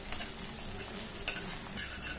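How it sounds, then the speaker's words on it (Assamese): A steady sizzle of an onion and spice paste frying in a pan for mushroom masala, with a couple of brief scraping clinks from stirring. "এয়া মোৰ গোটেইখিনি ভালদৰে ভাজি হৈ গ'ল"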